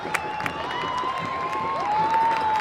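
Stadium crowd at a Rising football match gives a brief round of applause, a broad wash of clapping and cheering heard at moderate distance.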